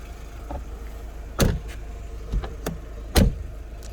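Power windows on a Mercedes-Benz C180 operate in short bursts, with three distinct motor whirs and thumps at the track's end over a low steady engine hum.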